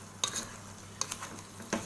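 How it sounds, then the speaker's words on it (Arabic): Chicken pieces and vegetables being stir-fried in a pan for Cantonese-style noodles: three sharp clatters of tossing and stirring over a soft, steady sizzle. "تقليبه كده، تقليبتين مع بعض كده مع الخضار ده كله"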